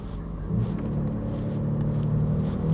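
Low exhaust rumble from a cheap Mercedes car with loosely fitted exhaust connectors, a steady deep drone that swells slightly after the first half second and holds close and even.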